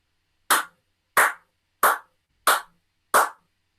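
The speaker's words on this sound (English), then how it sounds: "Neve, could you give us a clap?" Five single hand claps, crisp and close, land at an even pace about two-thirds of a second apart, with clean silence between each, recorded as found sounds for building a drum track.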